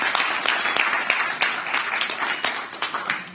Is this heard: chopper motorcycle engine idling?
no